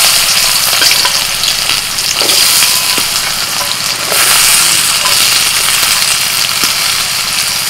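Thinly sliced potatoes dropped into hot oil in a wok with green and dry chillies for a village fish thali, a loud close sizzle and crackle with stirring scrapes throughout.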